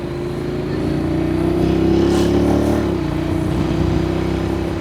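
Honda motorcycle in manual mode downshifting, a steady loud engine drone close by that rises and then drops in pitch as the gear changes.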